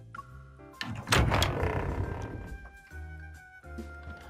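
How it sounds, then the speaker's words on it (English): A door opens in the video game Love & DeepSpace with a solid thunk and a swell of noise, then fades into a steady low hum and soft tonal background. "she shrugs and opens a door"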